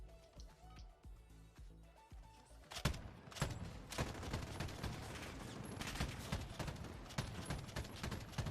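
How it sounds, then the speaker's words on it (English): Loud, dense bursts of gunfire from a video game gun start abruptly a third of the way in and keep going as rapid, repeated shots to the end. "This gun is so loud."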